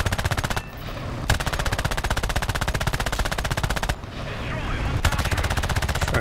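Aircraft machine guns firing in the War Thunder video game, dense rapid bursts with two short gaps between, loud and close.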